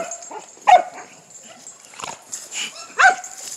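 A puppy yips and whimpers up close in a few short, high bursts separated by quieter whines and snuffles, with no steady talking.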